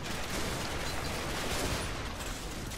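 Dense, continuous gunfire from Combat Mission: Battle for Normandy, a steady roar of overlapping shots and volleys as suppressing fire pours onto a house, loud and unbroken throughout.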